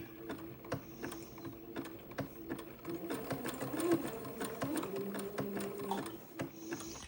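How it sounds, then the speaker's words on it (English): Sewing machine zigzag stitching Swiss edging to French insertion lace, running slowly in short bursts of rapid needle clatter with a humming motor, close and fairly quiet, pausing and restarting throughout. "I'm going to begin to zigzag the Swiss edging to my French insertion"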